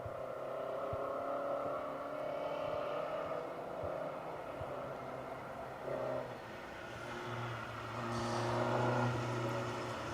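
A rally car, the final competitor on a night stage of the R.A.C. Rally, passes by with a sustained engine drone that swells and fades, rising again toward the end.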